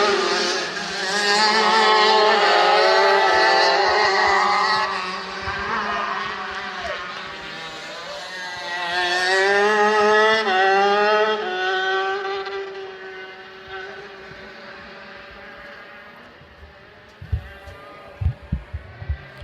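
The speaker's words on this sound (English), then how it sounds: "As you can tell, these engines are loud." Racing kart engines at a NorCal Karters heat race, a loud, buzzy high-revving drone from several karts rising and falling as they pass close by, then thinning out near the end.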